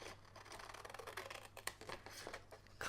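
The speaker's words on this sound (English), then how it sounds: "So to do that, I'm going to get my scissors" Scissors snipping a scrap of cardstock: a quick series of faint, close crisp cutting snips in an irregular rhythm, quiet room, no speech.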